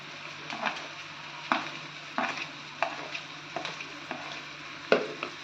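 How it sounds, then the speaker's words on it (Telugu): Ginger garlic paste frying in a pan after onions, a soft steady sizzle broken by regular scraping stirs of a spoon against the pan, close and without talk. "ఇప్పుడు దీన్ని బాగా ఫ్రై చేసుకోవాలి. అల్లం వెల్లుల్లి పేస్ట్ పచ్చివాసన పోయేంత వరకు ఫ్రై చేసుకోవాలి."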